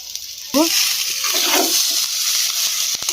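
Pasta sizzling in a hot pan as soy sauce goes in and gets stirred, a loud bright frying hiss that swells suddenly after a short quiet start, with scraping stirs and a few faint clicks at the end.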